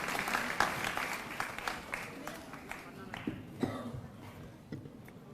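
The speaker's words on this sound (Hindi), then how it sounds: "एक बार जोरदार तालियों से उनका स्वागत कीजिए।" Audience applause welcoming a speaker at a women's day awards ceremony, a moderate clapping that gradually thins and fades with scattered individual claps toward the end, heard at some distance.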